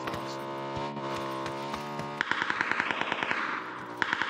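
Rapid automatic gunfire in the video game PUBG, a quick run of sharp repeated shots in the second half following a steady droning hum.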